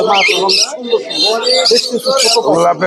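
Caged birds at the Friday bird market in Mirpur 1, Bangladesh, chirp and tweet loudly in dense overlapping bursts, close by, with squawks and soft coos among them.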